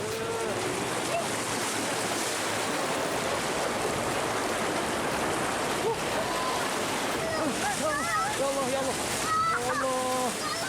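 Lahar flood water from Mount Semeru surges down the Regoyo river channel in Lumajang, a constant loud rushing roar of muddy torrent with people's voices rising over it toward the end.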